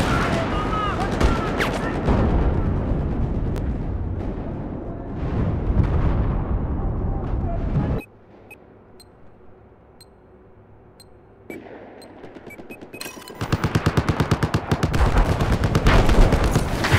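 Gunfire in the shooter game Battlefield 4, with long stretches of dense, loud rapid automatic fire and blasts, a quieter gap with a few scattered shots, then heavy firing again, all close and without talk.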